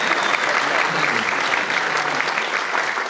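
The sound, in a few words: audience applause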